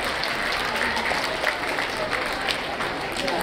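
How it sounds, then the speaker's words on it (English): An audience at a school's 15th anniversary celebration applauds for the teachers in steady, dense clapping that runs the whole time, with crowd voices mixed in underneath. "give them a big, big round of applause"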